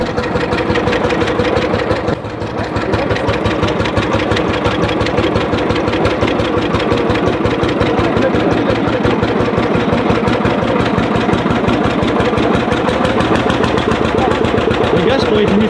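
A Lanz Bulldog two-stroke tractor with a 10-litre single cylinder idles with a loud, steady, rapid thumping beat that carries on throughout, close by.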